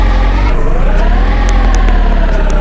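A tofu delivery car revving in the drifting game Drift One, a loud, close, buzzy engine note that climbs and wavers, with a few sharp clicks over it and no talking.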